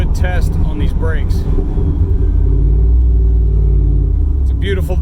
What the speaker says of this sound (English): I love driving this truck.